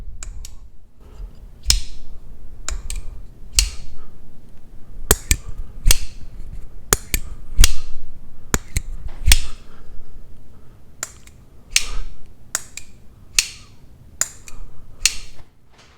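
A Kizer folding knife's action is worked close to the mic, giving a series of sharp metallic clicks and snaps at irregular intervals over low handling rustle, with the action sounding sticky.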